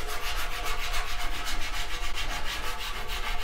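A piece of laminate flooring sample scrapes across a cast iron bandsaw table in quick, steady back-and-forth strokes. The rhythmic rasping sounds close and even, with no voices.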